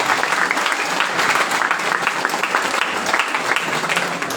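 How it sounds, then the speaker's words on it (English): Loud, sustained audience applause after a speech at a pre-university college, many hands clapping densely and evenly close by. "Big round of applause."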